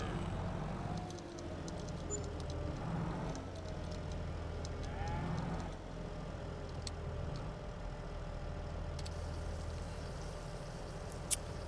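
Cows mooing inside a cow barn in the farming game Farming Simulator 22, a few low drawn-out moos rising over steady low machine hum, moderately near with no talking.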